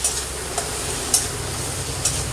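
Spice paste with ginger paste, turmeric and chili powder is stir-fried in a pan for Amodi fish curry, giving a steady soft sizzle with a few light clicks of the spatula against the pan.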